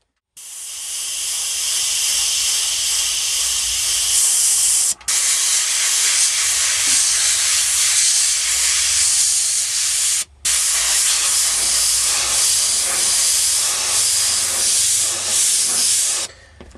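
Airbrush spraying paint onto a T-shirt for a Paul Stanley portrait: a loud, steady close hiss of air that runs almost continuously for about sixteen seconds, cut by two brief pauses.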